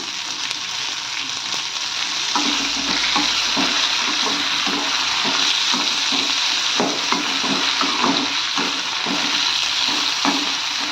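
Cumin seeds and tamarind fry in a pan with a steady close sizzle and a run of rhythmic stirring taps and scrapes, no talking over it.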